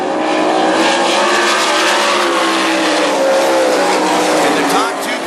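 Sprint cars roar around North Central Speedway during a quick six-lap UMSS heat race, a loud continuous engine howl with shifting pitches as several cars pass, steady throughout with a slight dip near the end.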